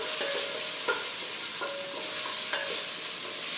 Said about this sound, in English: I'm going to be putting in a teaspoon and a half of minced garlic.